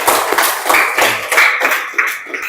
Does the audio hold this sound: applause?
yes